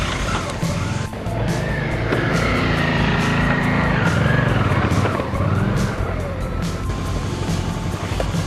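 A motorcycle ridden along the Wolvens Lane byway in Surrey, its engine loud and close with shifting revs as it works over rough ground and a small step, plus occasional knocks.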